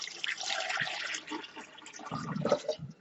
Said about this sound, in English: And I'll put the liter of water in,